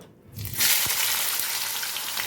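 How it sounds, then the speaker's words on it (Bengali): Chopped onions drop into hot oil in a wok and burst into a loud, steady sizzle for birista, with a brief quieter moment before the hiss rises and holds evenly to the end. "আমি আগে কিছুটা পেঁয়াজ বেরেস্তার জন্য ভেজে নেব"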